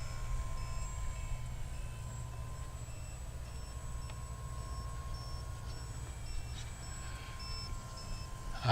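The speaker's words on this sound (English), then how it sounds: "I hear it beeping." A series of short, high electronic beeps repeats at a steady pace over a continuous low engine drone, with no talking, from an AP40 Apprentice S 15e RC plane on a close flyby.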